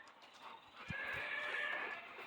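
A male goat lets out a sustained, quavering bleat that rises out of faint background noise and carries steadily to the end, preceded by a couple of soft thumps; no voices are heard.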